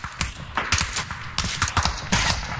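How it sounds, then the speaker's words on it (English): Rapid gunfire in a competitive first-person shooter match, a dense string of sharp, close shots in quick bursts with scattered overlapping cracks, heard alone without talk. "Taking shots from the house."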